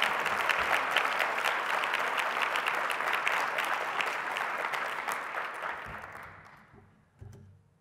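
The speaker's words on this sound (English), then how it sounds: "Let's have a round of applause for every officer and first responder" An audience at a county State of the County address applauds in a loud, full burst that holds steady and then gradually fades away, with a brief thump just after it dies out.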